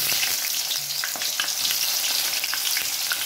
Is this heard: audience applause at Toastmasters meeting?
no